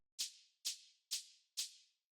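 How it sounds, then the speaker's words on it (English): Lone shaker sample from an acid-style techno track strikes four times at an even pace, each a bright, breathy burst that fades quickly into silence before the next. "This is really simple. It's just a shaker."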